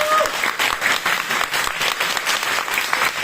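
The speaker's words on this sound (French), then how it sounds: "Applaudissons le Seigneur." A church congregation applauds together in a dense, continuous burst that holds at a steady, fairly loud level from start to finish, without talk over it.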